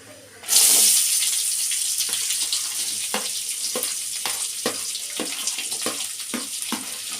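Onions dropped into hot oil in a pan: a sudden loud burst of sizzling that settles into a steady crackling hiss, broken by regular scraping strokes of a spatula.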